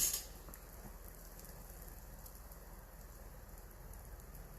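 Steady light rain falling outside a parked car with the windows slightly open, a soft continuous patter heard alone at low level with a brief louder rustle at the start.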